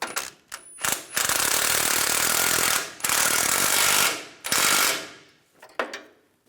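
A power tool tightens a torsion bar mount bolt on a 2001-2006 Chevrolet Silverado 2500, with several loud, close bursts of rattling, hammering drive separated by brief pauses, and no talk.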